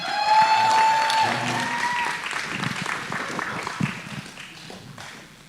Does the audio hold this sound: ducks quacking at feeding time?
no